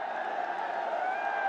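Crowd noise from a cricket stadium during a Bangladesh versus West Indies match: a steady, dense roar of cheering from spectators that holds at an even level throughout, with no single voice standing out.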